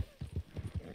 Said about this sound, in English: All right, get on the horse.